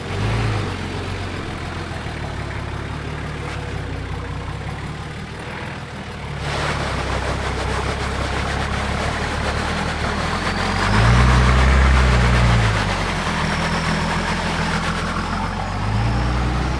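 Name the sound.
4WD engine idling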